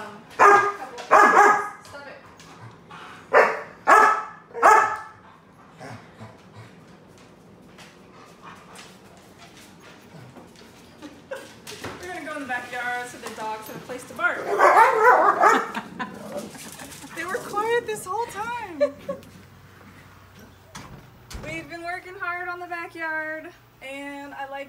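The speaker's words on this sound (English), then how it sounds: "Crazy dogs." Several dogs bark loudly in a house living room, with sharp bursts clustered early and whines and yelps later, while people talk.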